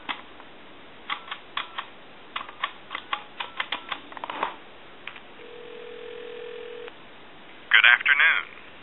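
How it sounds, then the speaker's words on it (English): A Trimline telephone moved to a regular line gives a string of quick dialing clicks and tones, then a steady dial tone, followed by a short burst of ringing or tones near the end, all close and clear. "move the telephone over to a regular line, give you some dial tone."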